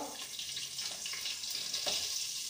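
Hot oil sizzles in a pan, ready for onions and green chillies for a homemade bread pizza. A steady, moderately loud frying hiss runs throughout, with a few faint crackles and small spatters.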